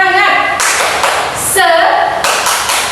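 Teacher and pupils in a classroom lesson do a 'tepuk semangat' clap game, with short bursts of group clapping breaking out between stretches of the teacher's talk, fairly close and loud.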